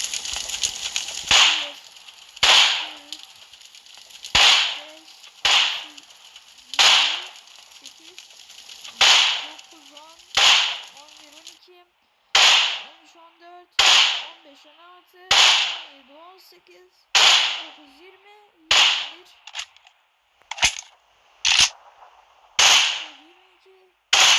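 Groza rifle fire in a video game, aimed at a car: about twenty sharp, loud cracks in evenly spaced single shots at a steady rhythm, each with a short tail, with no other sound between.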